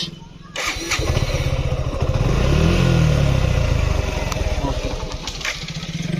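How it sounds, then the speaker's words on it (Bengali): A Suzuki motorcycle, its battery recently replaced, fires up on the electric starter, catching after a brief crank and settling into a steady rumbling idle that swells and then holds, close and loud. "তৃতীয় সেলফি স্টার্ট আরেকবার দেখব"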